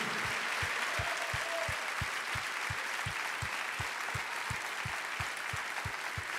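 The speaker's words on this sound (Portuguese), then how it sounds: "Vamos aplaudir mais forte, igreja." Church congregation applauding during a service: a dense bed of clapping with a strong, regular low beat pulsing about three times a second, as if a rhythmic drum or stomp keeps time.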